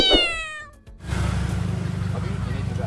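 A bobtail cat gives a clear, close meow at the start, followed by a voice talking over a steady rumbling background outdoors.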